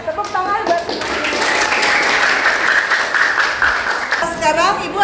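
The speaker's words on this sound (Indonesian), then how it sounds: "Tepuk tangan buat semuanya." Pupils in a classroom clap together in a sustained burst of applause lasting several seconds, loud and close, with a teacher's voice heard at the start and end.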